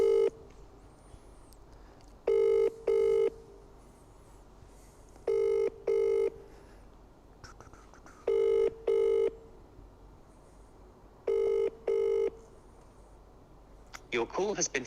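Telephone call ringing out in repeated double bursts, five rings spaced evenly over a quiet room, then a brief clatter at the end as it goes through to voicemail.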